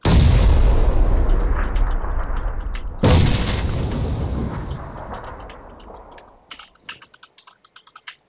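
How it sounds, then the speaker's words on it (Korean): A grenade explosion in the PUBG battle royale game lands as a loud, heavy boom that rolls away slowly. A second blast follows about three seconds later, and a few sharp clicks come after it. "어 수류탄"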